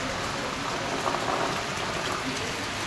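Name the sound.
rain falling all day in a village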